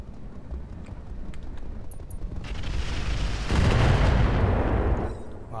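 Heavy weapons fire and explosions from a mech battle against armored urban tanks in the game Roguetech, a dense continuous barrage that swells louder toward the end, with a voice talking over it.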